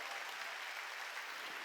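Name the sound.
congregation clapping hands in church service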